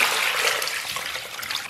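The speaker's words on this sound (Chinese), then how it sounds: "咱把肥肠好好的给它抓洗一下，把上边的粘液咱们都给它抓出来" Pig intestines being scrubbed by hand in a bowl of salted water, a close, soft sloshing and squelching of wet handling that swells and eases in a short burst.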